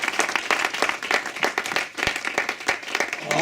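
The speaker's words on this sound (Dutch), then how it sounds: "Kan jij klappen voor het woord?" Church congregation applauding during a bilingual French-Dutch service in Rotterdam, a dense steady wash of many hands clapping close and loud throughout, with a few sharper individual claps standing out.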